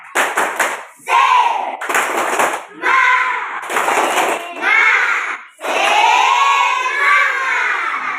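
A class of schoolchildren performs a rhythmic spirit clap chant, with bursts of loud, close shouting and clapping in several short phrases separated by brief pauses, ending in a longer sustained group cry.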